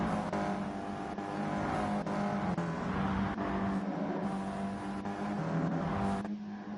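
A pack of stock-car racers in Gran Turismo 7 at Blue Moon Bay Infield, engines droning loud and continuous with shifting pitch as cars jostle together, a brief gear change near the end.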